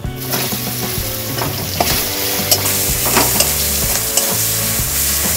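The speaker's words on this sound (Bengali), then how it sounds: "এবার পেঁয়াজগুলো দিয়ে দিলাম" Onions fry in hot oil with dry red chilies, green chilies, cumin and bay leaves, making a loud continuous sizzle. Repeated scraping stir strokes and clinks are heard close up.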